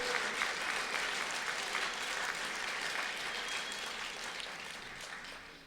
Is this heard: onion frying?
no